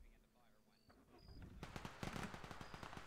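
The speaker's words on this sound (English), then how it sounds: "Okay, looks like they are shooting." Rapid bursts of gunfire in an Arma 3 roleplay game, starting after a quiet stretch and continuing as a dense string of sharp, fairly loud shots. A voice is heard underneath.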